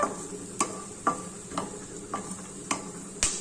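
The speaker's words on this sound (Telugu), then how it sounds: "ఆయిల్ వేసినాం కదా తొందరగా వేగిపోతాయి" Ingredients fry in oil in a pan for a stuffed gourd curry, a soft continuous sizzle punctuated by about half a dozen distinct clinks and scrapes of a spoon stirring, close by and without talk.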